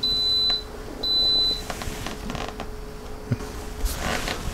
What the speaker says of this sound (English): it already beeped because it was already at that temperature